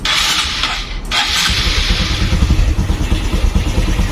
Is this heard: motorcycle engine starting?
yes